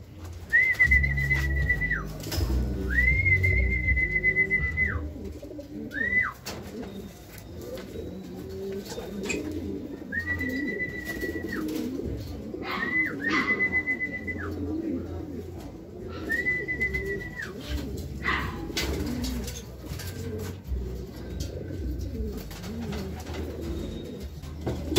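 A racing pigeon coos on arrival at the loft after a 220 km derby from Aringay, La Union to Pasig City. Repeated steady high beeps sound over a low background murmur.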